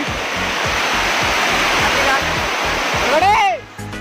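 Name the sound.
small waterfall at Punjisil, Koraput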